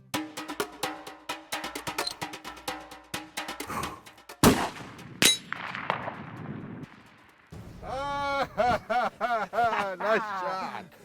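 A single sharp crack from a long range rifle with a 1 3/4 ounce trigger splits the air, loud and close, preceded by rhythmic tones and followed by people talking.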